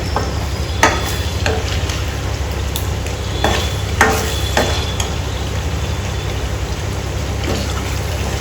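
Mango and ginger chutney fries steadily in a hot pan, a loud continuous sizzle broken by a few sharp clicks of stirring, with no voices.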